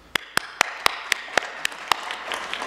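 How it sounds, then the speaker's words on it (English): One person starts the clapping at an investment forum's opening session in Nairobi, with about eight sharp, evenly spaced claps close to the microphone, followed by fainter scattered claps from the audience. "I'll start the clapping."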